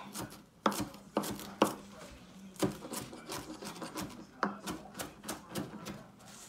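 A big kitchen knife chops through ingredients for chicken soup on a cutting board, sharp knocks landing in uneven bursts of three or four, close and fairly loud, with faint rubbing and scraping between strokes.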